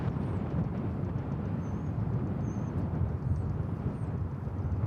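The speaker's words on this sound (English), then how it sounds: "Runway 36 right, close takeoff." Jet airliner taking off from runway 36 right at DFW Airport, a steady loud roar with low-frequency rumble that holds throughout, heard from close by.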